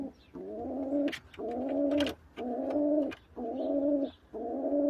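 Pigeons in a loft give repeated low, throaty cooing phrases, four or five bursts in a steady rhythm, close and clear, with faint rustling between them and no talking.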